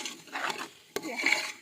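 Rice and lentils are stirred in a metal pan as they fry, giving a brief scraping rattle of a spoon against the pan with one sharp clink midway.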